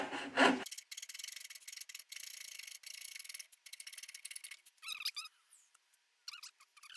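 A hand saw cuts through wood in fast, rhythmic rasping strokes, close and bright, then slows into a few irregular scrapes and squeaks as the cut nears its end; no one speaks.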